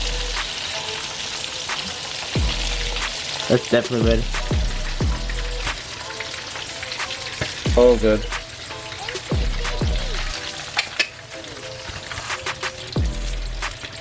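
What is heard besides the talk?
shrimp frying in oil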